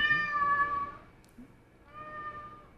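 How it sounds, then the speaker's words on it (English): A house cat meows in a long drawn-out call and then a second, quieter meow, close by with no talk over it. "is that a cat?"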